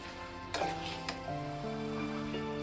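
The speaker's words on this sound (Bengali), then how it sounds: "আস্তে আস্তে মশলাটা আমি এর সঙ্গে কষাতে থাকবো।" Masala being fried and stirred in a pan for a taro-greens dish with hilsa fish head, a steady close sizzle with a couple of sharp scrapes of the spoon and a faint background hum.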